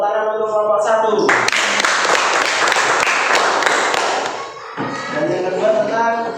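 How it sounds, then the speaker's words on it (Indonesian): Classroom students clap for a group of classmates, a dense burst of applause that starts abruptly and runs for several seconds between stretches of loud voices. "tepuk tangan untuk kelompok 1"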